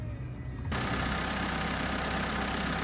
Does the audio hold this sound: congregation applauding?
no